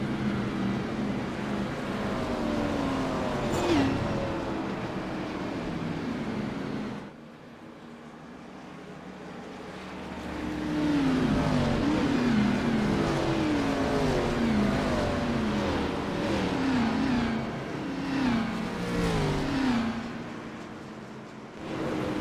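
Race car engines in iRacing during a Gen 4 series race at Brickyard, a sustained engine drone with revving pitch sweeps and a brief drop before the cars build back up loudly.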